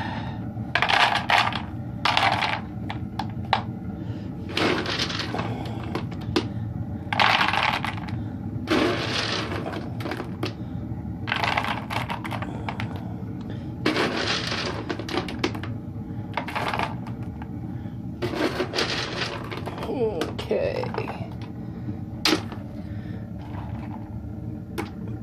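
Small hard wood pellets are poured into a container sitting on a scale, giving repeated bursts of rattling, clattering patter over a steady low background hum.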